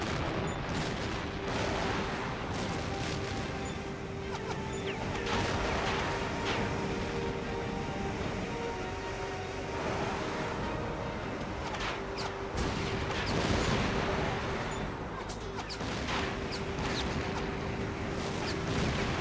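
Jet aircraft weapons fire on ground targets during an amphibious assault in H.A.W.X 2, with repeated loud blasts and rattling gunfire over a continuous engine roar, dense and sustained throughout.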